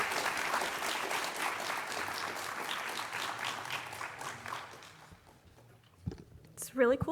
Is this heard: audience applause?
yes